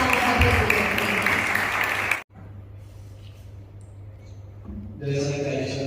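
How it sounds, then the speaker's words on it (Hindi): Applause from a mushaira audience fills the first two seconds, dense and loud, then cuts off to a quiet hum before crowd noise and clapping swell back in near the end. "आप सभी की तालियों की गूंज बता रही है"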